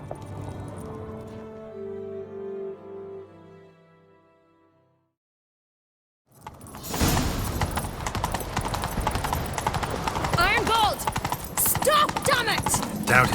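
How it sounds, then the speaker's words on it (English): Horses gallop in The Witcher 3, a dense, loud drumming of hooves that starts abruptly after a quieter stretch with musical tones and a moment of near silence, then runs steadily to the end. "Grab a horse, we'll chase him down."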